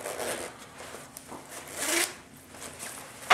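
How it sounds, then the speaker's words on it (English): A zipper on a 511 response jacket is pulled in several short, quick rasping strokes, close and fairly quiet, with a sharper tug at the end. "It's a good zipper."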